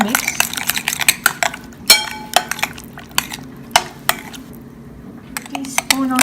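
A spoon clinks and scrapes around a bowl while mixing carrot cucumber raita, with irregular sharp taps and soft stirring between them at close range.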